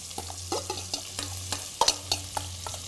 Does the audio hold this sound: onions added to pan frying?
yes